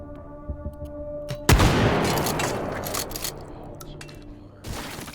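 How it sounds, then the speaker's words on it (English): A single sharp shotgun blast fires in the VR game H3VR, followed by a long decaying rumble, with a fainter shot near the end over a low background hum. "I think we'll just use the shotgun here"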